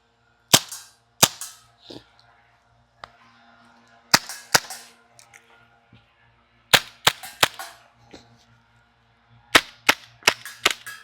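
A WE M712 Mauser gas blowback pistol fires at a target about 30 to 40 feet away, with around a dozen and a half sharp, loud cracks, some single and some in quick strings, separated by quiet pauses.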